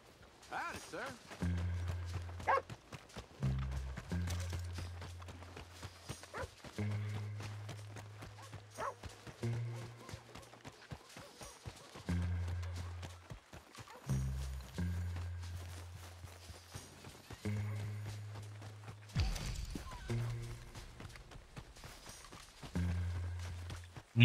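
Horse hooves clip-clopping at a walk in Red Dead Redemption 2, rhythmic repeated thuds heard in bursts alongside game music and voices talking over them.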